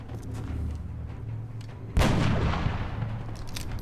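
A single marksman rifle shot from the video game XCOM lands as a sharp, loud report about halfway through, with a decaying tail over low game ambience and no talk.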